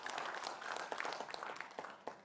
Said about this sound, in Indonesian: Berikan tepuk tangan untuk paslon nomor urut 3.